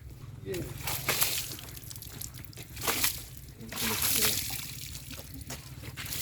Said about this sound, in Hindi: यहाँ पे पानी था तो भर भर के मैं उसको धो रहा हूँ